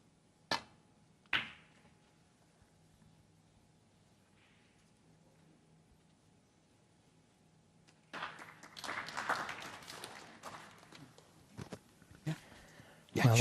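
A crowd at the 2017 Scottish Open snooker quarter-final between Ronnie O'Sullivan and John Higgins breaks into applause. It swells after a quiet stretch broken by a couple of sharp knocks, and the clapping stays steady and fairly loud.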